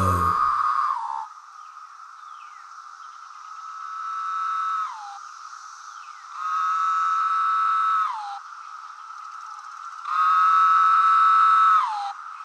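A human voice imitates a periodical cicada chorus, sustaining a bright, buzzing whine in repeated swells, each holding a steady pitch for a couple of seconds before dropping off, clear and alone against silence.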